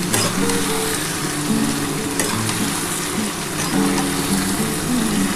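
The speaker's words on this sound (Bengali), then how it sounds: "এবার খুব ভালো করে মশলাটা কষাতে হবে।" Spice masala fries hard in a pan for a mutton and potato kosha curry, a loud, dense, continuous sizzle and crackle with faint scraping of stirring underneath, steady for several seconds without any voice.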